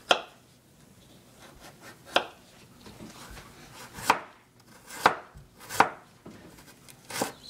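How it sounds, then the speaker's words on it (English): Knife slicing peeled ingredient into thin strips on a cutting board while preparing soy-braised salmon, a series of sharp, close chopping hits spaced irregularly, about six distinct strikes over quiet background. "So these are cutting them into strips, pretty thin, maybe like 2 millimeters or something."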